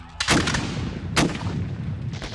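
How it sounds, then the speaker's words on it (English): Cannon fire in a battle between rebels and Burgoyne's lines, heard as two heavy booming blasts about a second apart with a rumbling, crackling din of gunfire continuing beneath. "Cannon fire."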